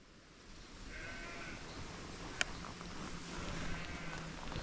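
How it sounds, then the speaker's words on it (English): Sheep bleat in a field, distant and faint against steady wind and outdoor noise, with a single brief bleat standing out early on. "Sounds like there's bloody sheep at the bottom of the field here."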